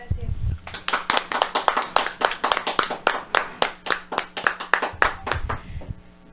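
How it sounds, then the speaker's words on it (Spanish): An audience claps loudly in a fast, steady burst of applause for a Spanish-language Catholic talk program, the dense hand claps running for several seconds with no speech over them. "te despedimos con un fuerte aplauso y muchas gracias"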